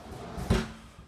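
A single small closet door in a compact Japanese apartment bathroom opens or shuts with one short, close, dull knock that fades quickly in a quiet room.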